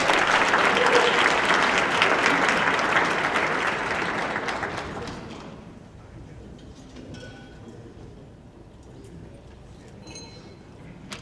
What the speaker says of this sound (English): Please join me in welcoming Dr. Donald Lopnow, Interim President of Eastern Michigan University